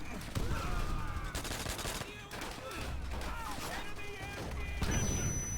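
Call of Duty: World at War gunfire crackles in rapid bursts with heavy booming grenade explosions mixed in, dense and continuous, while a voice exclaims over the action.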